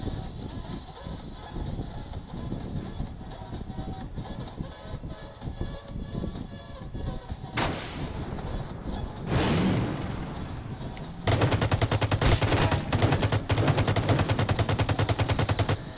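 Video game gunfire: steady rapid rattling shots through much of the stretch, then a dense sustained burst of automatic fire toward the end, with little talk over it.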